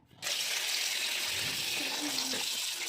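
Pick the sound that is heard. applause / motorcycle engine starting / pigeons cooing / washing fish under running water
washing fish under running water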